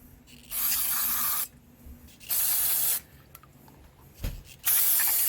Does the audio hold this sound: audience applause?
no